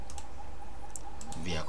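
Sharp computer mouse clicks come in a few quick, light taps under a steady background hum as someone speaks.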